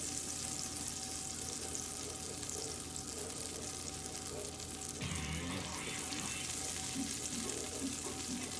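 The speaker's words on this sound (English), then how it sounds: "I'm gonna sweat some garlic and I'm gonna sweat some shallots" Garlic and shallots sweating in butter in a pan, a steady dense sizzle that swells slightly partway through, close and continuous with no voices.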